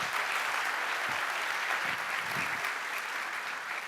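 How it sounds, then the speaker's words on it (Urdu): Sustained applause from an audience at a talk in Karachi, a steady wash of many hands clapping for the speaker, heard alone with no speech. "سوالات سے پہلے پلیز زوردار تالیوں سے آصف صاحب کے لیے"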